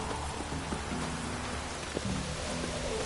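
Steady rainfall in the video game The Witcher 3: Wild Hunt, a dense even hiss of drops close by, with faint low tonal game sounds underneath.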